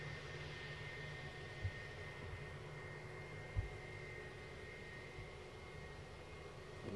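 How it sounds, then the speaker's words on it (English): A passenger aircraft inbound from London Heathrow approaches Glasgow Airport, a faint distant steady engine rumble and whine under outdoor background noise, with a couple of soft bumps. "So the aircraft you are looking at is inbound from London Heathrow."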